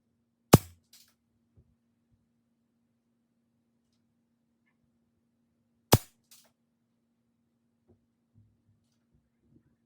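A Benjamin Discovery air rifle fires Craftsman Premier Ultra Mag pellets in two sharp, isolated shots about five seconds apart. Each crack comes with a faint metallic tail, and near-silence fills the gap between them.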